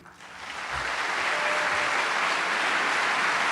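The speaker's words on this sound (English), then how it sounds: "An appreciative crowd here in Detroit." Applause from a crowd at a speech in Detroit, rising quickly and holding as a loud, steady wash of clapping with no talk over it.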